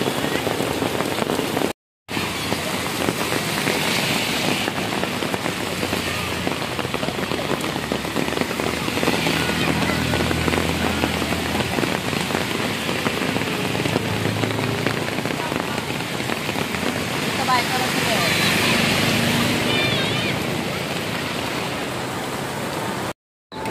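Heavy rain pours steadily onto surfaces in a dense, loud, continuous hiss that lasts throughout, broken by a brief cut near the start and another at the very end.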